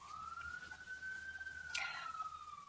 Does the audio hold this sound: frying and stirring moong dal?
no